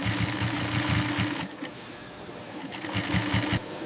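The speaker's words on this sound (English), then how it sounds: "Operators guide the snakeskin through high-precision sewing machines." A high-precision industrial sewing machine stitches snakeskin in a leather factory, running in rapid rhythmic bursts of needle strokes with a brief slowdown in the middle, loud and close with no talk.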